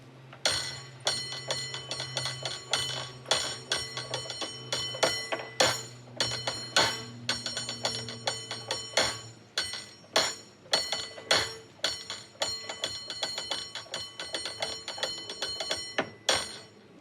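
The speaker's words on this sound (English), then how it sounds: "Are you going to give us now a demonstration of your skills, please, of bell ringing?" Rapid, rhythmic clanging of a San Francisco cable car's brass bell, struck in a lively syncopated pattern of many sharp rings, loud and close, with no talking over it.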